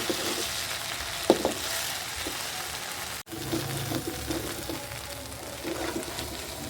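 Spices crackle and sizzle in hot mustard oil for olive pickle, a steady broadband hiss with a few louder pops, close up, briefly cutting out midway before resuming.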